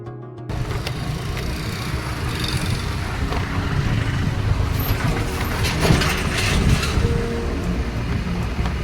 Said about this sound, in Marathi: सो अशा प्रकारे माझी ट्रेन गेलेली आहे